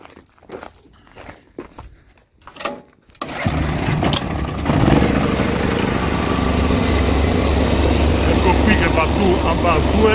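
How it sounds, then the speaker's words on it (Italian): A few footsteps and handling noises, then a small faulty petrol generator starts and settles into a loud, steady running drone. "Metto in moto il gruppo elettrogeno."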